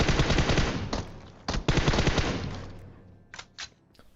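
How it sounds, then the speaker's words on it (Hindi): Rapid automatic gunfire in the battle royale game PUBG, loud sustained bursts of shots with brief pauses, then a few scattered single shots fading toward the end. "गोली चला रहा हूं, सारी गोली फट्टे पे लग जाती है"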